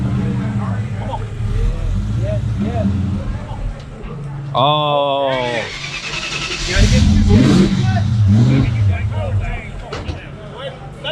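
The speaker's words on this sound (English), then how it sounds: "This guy's gonna rub his car coming off the trailer." A Ford Mustang Foxbody starts and eases off a trailer at a Foxbody car show, its engine idling and then revving rough and close, with a brief squeal and people talking nearby.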